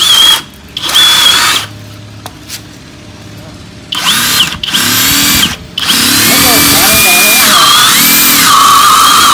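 A grey FLEX 24V FX1271T cordless drill whirs loudly in several bursts, starting, stopping and revving with changing pitch, near and dominant, with brief quiet gaps between runs.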